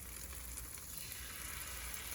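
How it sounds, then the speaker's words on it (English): Spoonfuls of salted cornbread batter frying in a hot pan, giving a steady close crackling sizzle that holds evenly throughout with no talking. "You hear that sizzle?"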